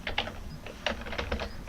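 Computer keyboard typing in a terminal: a quick run of distinct close key clicks in uneven short clusters, fairly quiet, with no voice over them.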